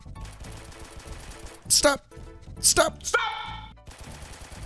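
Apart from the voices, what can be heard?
gunfire in a Roblox FPS video game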